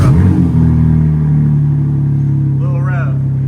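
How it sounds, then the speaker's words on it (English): A completely stock-exhaust BMW G80 M3 engine cranks and fires up, settling into a steady, loud, close idle rumble, with a brief voice heard near the end. "Let's get a little startup video to see what she sounds like."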